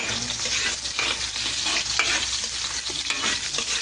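Onions sizzle in a pan while being stirred, a continuous crackling fry with a spatula scraping and turning them close by.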